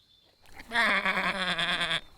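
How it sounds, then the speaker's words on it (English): A cartoon sheep gives one long wavering bleat lasting over a second, loud and close with a trembling vibrato, after a brief quiet lead-in. "These are the sheep."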